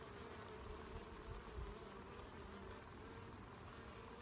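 Bees swarm around feeding pails of sugar syrup, a steady low droning hum with faint, regular high chirps above it.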